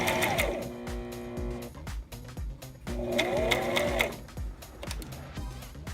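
A sewing machine stitches fabric in short bursts, each a fast rhythmic whirring chatter lasting about a second or two, close and clear with quiet gaps between runs.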